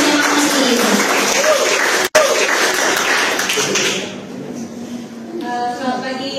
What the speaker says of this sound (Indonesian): beri tepuk tangan dulu untuk menyemangati